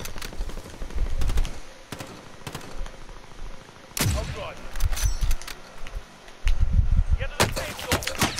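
Gunfire in Call of Duty Modern Warfare, sharp repeated shots in uneven bursts, some close and loud, mixed with game sounds and a talking voice.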